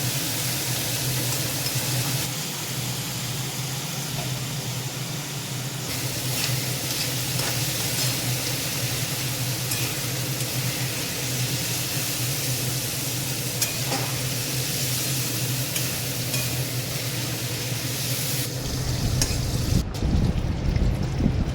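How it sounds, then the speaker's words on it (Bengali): Shrimp fry lightly in oil in a kadai, a steady close sizzle with occasional stirring scrapes running unbroken, louder clatter near the end and no talking. "হালকা চিংড়ি মাছটা ভেজে নিতে হবে।"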